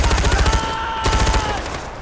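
Rapid automatic gunfire in the video game Far Cry 4 rattles in a fast burst, pauses briefly, then resumes in a second burst, loud and close.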